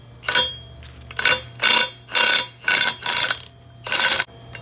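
An impact wrench fitted with a 19 mm impact socket breaks loose a bolt during a Toyota Tundra TRD front stabilizer bar installation, firing about seven sharp rattling bursts separated by brief pauses.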